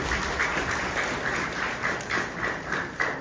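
Audience applause at a political gathering featuring actresses Regina Cassandra and Anusuya, steady dense clapping throughout with a few louder bursts, no talk.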